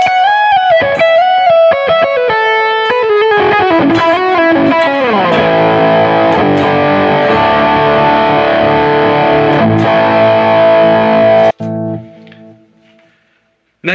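An electric guitar played through a heavily overdriven, Tube Screamer-style distortion on an HX Stomp, quick riffing then sustained crunchy chords ringing out before fading.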